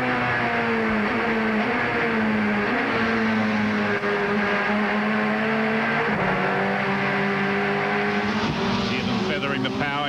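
Touring cars in the ToCA BTCC racing game at Thruxton, several engines droning loudly together and rising in pitch as they accelerate, with a commentator's voice running over the engine noise throughout.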